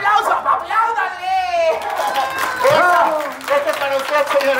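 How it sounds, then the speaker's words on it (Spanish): Audience clapping and cheering for señora Elena at a birthday celebration, a lively crowd noise running continuously while a voice calls out loudly over it. "¡El aplauso para la señora Elena!"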